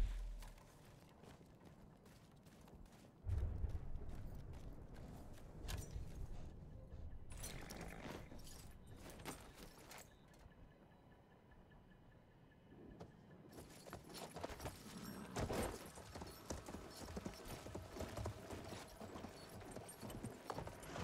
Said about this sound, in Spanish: Ah, vale, es un caballo.